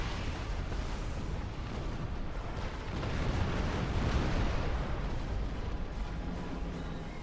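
A starship blowing up in a space battle in Star Trek Online: a loud, sustained, roaring explosion rumble that swells slightly in the middle and stays dense to the end, with no talking over it.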